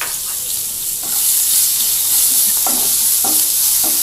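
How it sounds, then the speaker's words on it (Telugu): Thinly sliced onion for upma fries in a pan with a steady close sizzle, broken by a few brief stirring scrapes. No one speaks. "బాగా వేగాలండి ఈ ఉల్లిపాయ"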